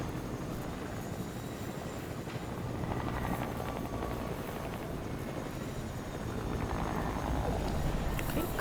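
A helicopter flies in a video game, giving a steady, faint whirring drone that holds through the whole stretch with no talk.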